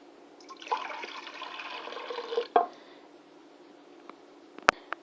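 Milk mixture and dissolved yeast pour into a KitchenAid mixer bowl, a soft steady liquid stream for about two seconds, followed by a splash and a few quiet clinks.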